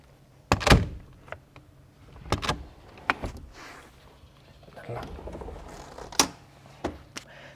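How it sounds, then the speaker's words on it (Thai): Seats in a Kia Grand Carnival G2 minivan are folded and slid, giving sharp mechanical clunks and thuds at irregular intervals with quieter sliding rattles between, close by and with someone talking. "เราก็สามารถใช้วิธีพับเบาะนะครับและเลื่อนเพื่อเพิ่มพื้นที่ได้นะครับ"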